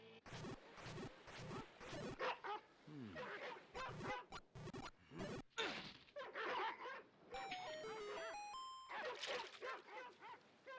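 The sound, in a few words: dogs barking and whimpering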